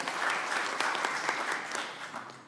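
A crowd at an Indonesian political party event applauds with dense, steady clapping throughout, loud and sustained with no break.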